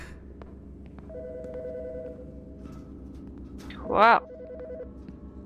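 A telephone ringing in the video game Autopsy Simulator, with repeated ring tones under game ambience and a brief loud voice exclamation near the end.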